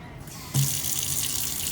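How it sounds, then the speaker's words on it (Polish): Water gushes from a tap, starting abruptly after a moment of quiet and then running steadily with a bright, hissing splash. "Odkręcam wodę."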